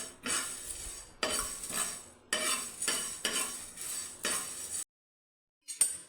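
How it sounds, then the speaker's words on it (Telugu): Curry leaves, fenugreek seeds and cloves roast in a pan, heard as a series of close scraping stirs and clinks in bursts, then a brief silence before one more scrape. "కొంచెం నల్లగా ఇవి మెంతులు అనేది నల్లగా అయ్యేటట్టు రోస్ట్ అయితే చేసుకోవాలి"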